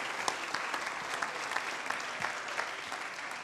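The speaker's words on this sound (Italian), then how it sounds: "Io farei un applauso a voi stessi" An audience applauds at a civic sports gathering in Venice, a dense, even patter of many hands clapping continuously at moderate distance with no voices on top.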